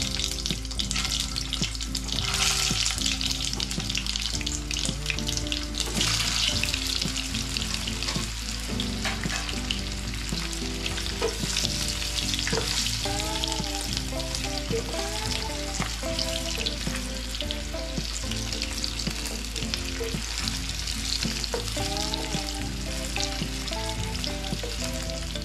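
Potatoes and cumin fry in a pan for dum aloo with a long, steady sizzle and occasional stirring scrapes, heard alone throughout.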